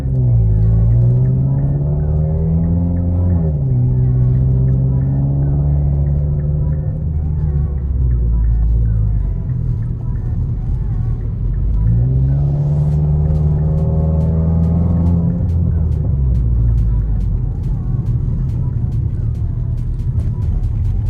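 A Ford Focus engine with its stock air filter runs up close, revving up twice in long rising-and-falling sweeps between steady idling, loud throughout.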